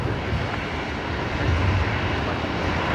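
A Jetstar airliner departs Brisbane Airport, its engines a steady, broad roar with low rumble that holds at a constant level throughout, heard from a distance.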